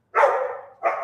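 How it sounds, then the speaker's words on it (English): Dog barking in the background behind a game stream, two quick barks close together, the first longer and the second clipped, with no voices over them. "Can you guys hear the dog in the background?"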